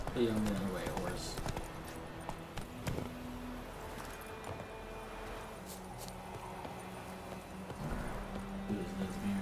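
Horse hooves clip-clop in a steady walking rhythm in a video game, quiet and under someone talking, alongside faint game sounds.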